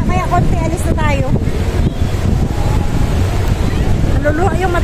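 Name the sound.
strong sea wind blowing on a boat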